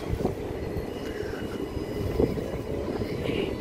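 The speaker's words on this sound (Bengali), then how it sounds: "এটা হচ্ছে লাইট রেল।" A light rail tram near Circular Quay in Sydney rolls past with a low rumble and a soft metallic whine, moderately close and steady, with a couple of brief clunks.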